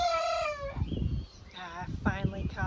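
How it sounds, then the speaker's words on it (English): Young white rooster crowing on a farm, one strained, breaking crow near the start followed by clucks and softer calls, fairly close. "It's that white one that's starting to get his crow going."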